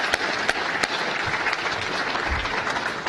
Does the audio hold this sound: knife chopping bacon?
no